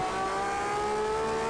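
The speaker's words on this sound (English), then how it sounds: "Just listen to this engine." V12 race car engine in Project Cars 2 holds a high, steady revving whine with layered harmonic tones, loud and close, with no voices.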